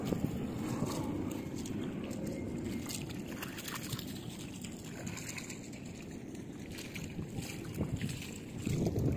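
Steady wind rushing across the microphone with a low rumbling buffet, continuous throughout, likely outdoors near open water with no talking.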